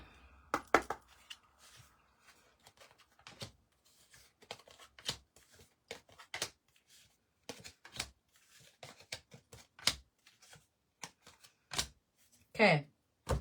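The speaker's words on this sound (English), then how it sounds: "I'm going to shuffle the second deck" A deck of reading cards is shuffled by hand, giving sparse, quiet snaps, taps and riffles scattered over several seconds with silent gaps between them.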